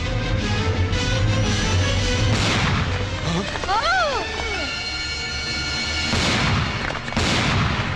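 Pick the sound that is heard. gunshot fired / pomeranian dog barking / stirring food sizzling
gunshot fired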